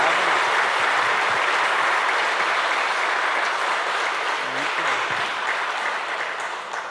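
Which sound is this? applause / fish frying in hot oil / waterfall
applause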